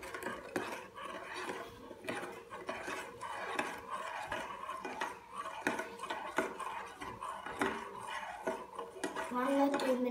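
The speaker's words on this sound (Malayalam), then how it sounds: "വൺ ഓർ ടു മിനിറ്റ്സ് നമ്മളിത് ഇങ്ങനെ മിക്സ് ചെയ്യണം" A utensil scrapes and clinks against a bowl in quick repeated strokes, mixing sugar into an orange ice cream mixture with honey, close and fairly quiet.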